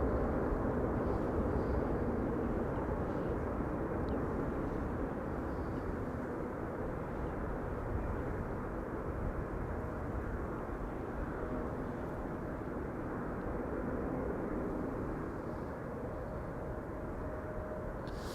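A cargo aircraft taxiing on an airport apron produces a steady, broad engine roar that holds at an even loudness throughout, with no talk over it.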